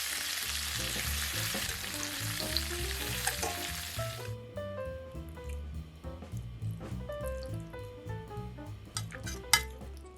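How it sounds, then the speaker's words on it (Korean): Salted and peppered pork ribs sizzling and searing in a hot frying pan, loud crackling at first that settles into a steadier hiss with occasional pops. "소금과 후추를 뿌려둔 돼지갈비는 팬에 먼저 노릇노릇하게 구워주세요"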